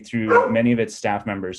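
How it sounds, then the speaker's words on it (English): A dog barks several times in the background, its barks overlapping with a person speaking nearby at a public listening session. "I apologize for the dog barking in the background"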